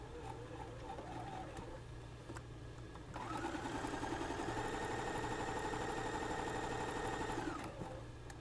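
Close up, a sewing machine pieces quilt blocks along a seam in one continuous run of rapid, even stitching lasting several seconds, set against a steady background hum.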